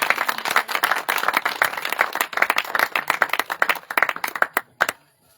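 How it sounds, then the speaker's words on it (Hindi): Hearty audience clapping at a village assembly marking Chhatrapati Shahuji Maharaj's birth anniversary in Chandauli, loud and dense at first, then thinning into scattered claps before stopping abruptly into near silence. "जोरदार तालियों से सम्मान करें दोस्तों।"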